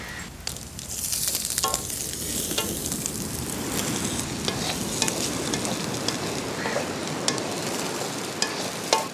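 Grated coconut sautés in a pan for a village-style fish pulusu curry, a steady close sizzle and fry with scraping stirs throughout, no talk over it.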